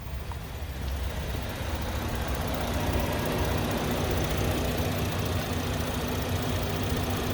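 A 2015 GMC Acadia with all-wheel drive idles steadily, a smooth, even low hum holding close and constant without any talk.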